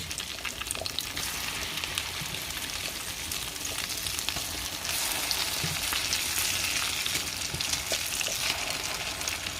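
Pumpkin flower fritters frying in a pan make a loud, dense sizzle that runs unbroken and close, swelling slightly midway, with no voices.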